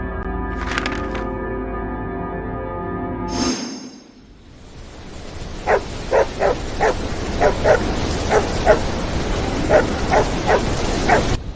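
After a brief ringing tone, hunting dogs bark repeatedly in a steady series of sharp yaps, fairly close, over a background hiss.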